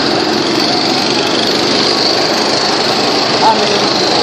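Go-kart engine at a karting championship race, a steady high-pitched buzzing drone held loud and close throughout with little change in pitch, with voices faintly mixed in.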